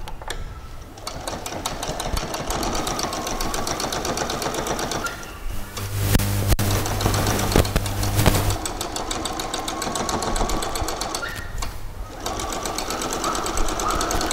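Sewing machine stitching a double seam on fabric for a pair of shorts, a rapid steady mechanical whir and clatter that runs almost continuously, with short pauses and a louder burst in the middle.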